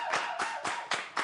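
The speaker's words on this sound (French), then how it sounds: "j'aimerais qu'on applaudisse très très fort Océane" A lone person claps slowly in an indoor setting: about five distinct, fairly faint claps, evenly spaced, with nothing else heard.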